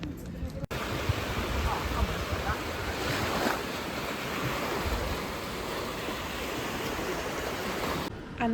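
Sea waves wash ashore at sunset on the coast of Crete, a continuous rushing surf mixed with buffeting wind noise on the microphone, with a brief sharp break near the start.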